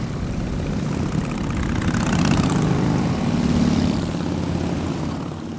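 Harley motorcycle engines revved by a group of veterans on a ride, a deep, continuous rumbling drone that swells in the middle and eases off, with no talk over it.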